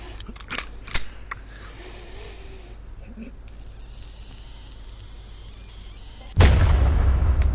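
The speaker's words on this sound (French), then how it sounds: "ça termine toujours comme ça par une sorte de coup de feu à la fin de la phrase" A gunshot-like bang closes a film line, bursting in loud and sustained after a stretch of quiet room noise and a few earlier clicks.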